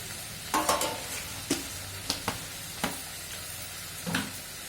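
Crab curry masala of coconut, pepper, cumin and turmeric sautéing in a pan without water, with a steady low sizzle under several sharp, separate spoon scrapes and stirs, close up and with no talking.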